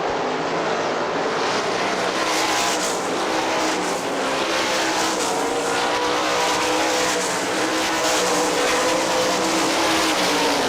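Sprint car engines roar continuously at high pitch on a dirt track at Hartford Speedway Park, a dense wall of loud motor noise with no pauses, several cars blending together.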